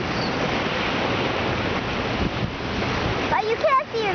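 Ocean surf rolling onto Miami Beach, a constant broad wash of waves mixed with wind buffeting the microphone, with a faint squeal near the end.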